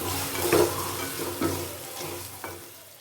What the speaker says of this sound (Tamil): இப்போ வெங்காயம் வதங்கி நல்லா கோல்டன் ப்ரௌன் கலரில் வரட்டும்